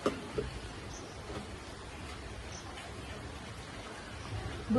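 Steady rain falling outdoors on a cloudy day, a soft continuous hiss of drops that stays fairly faint and even throughout, with no talking.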